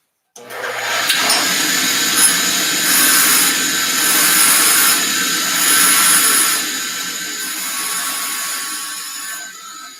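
A bench grinder whines loudly and steadily, putting a broad tip on a tungsten welding electrode, its pitch wavering slightly as the rod is pressed and turned against the wheel.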